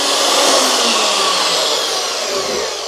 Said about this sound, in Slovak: Tak píla stále ide.